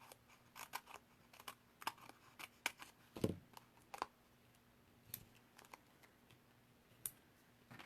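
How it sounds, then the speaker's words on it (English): Scissors cut hunks of material for a card frame in a crafting setup, giving a scattered series of short, close, quiet snips and clicks with gaps between them. "let's just cut a couple of hunks out of here"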